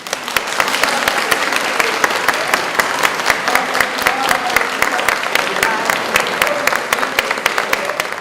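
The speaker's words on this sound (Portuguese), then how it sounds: "salva de palmas" A crowd gives a sustained round of applause at a televised program, dense steady clapping from many hands throughout, with voices faintly mixed in.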